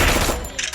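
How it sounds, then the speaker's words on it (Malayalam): Gunfire in a multiplayer shooter video game, a dense burst of rapid automatic shots at close range that fades slightly toward the end. "അവൻ എന്നെ വെടിവെച്ചോണ്ടിയാണ്."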